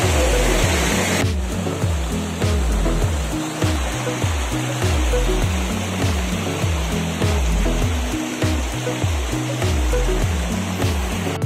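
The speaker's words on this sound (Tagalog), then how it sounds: "So, nandito na tayo sa Kilangin Falls." Kilangin Falls pours in a loud, continuous rush of falling water close by, a steady broadband roar filling the whole stretch.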